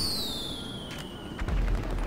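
Fireworks in Grand Theft Auto V: high whistling rockets sliding downward, then a burst of booming pops and crackles partway through, fairly close.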